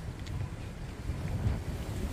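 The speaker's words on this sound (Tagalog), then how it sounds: "nakikipaglaban ako dito sa malakas na hangin" Strong wind buffets a microphone outdoors after a train stop, a steady low rumbling whoosh with gusty swells and no talk.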